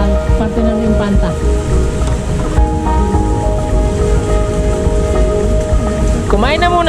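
Steady, heavy rainfall from an approaching storm with a constant hiss, with a faint voice and other background sounds mixed in.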